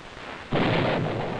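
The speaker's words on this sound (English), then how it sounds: "Like thunder, the sound of a nuclear explosion follows the flash of light." A nuclear explosion arrives as a sudden heavy boom that swells into a broad, sustained thunder-like rumble, loud and alone without voices.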